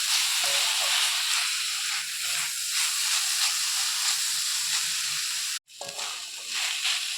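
Coconut and milk cream frying in a pan give a continuous soft sizzle and hiss, with occasional faint stirring and a brief dropout near the end.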